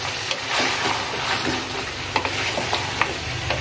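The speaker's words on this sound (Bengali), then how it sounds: "আলুগুলো দিয়ে খুব সুন্দরভাবে নেড়ে দেবো।" New potatoes are stirred into a beef curry frying in a pan, with a steady close sizzle broken by several scraping knocks of the spoon against the pot.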